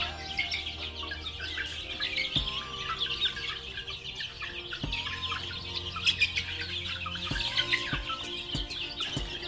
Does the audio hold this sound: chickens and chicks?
yes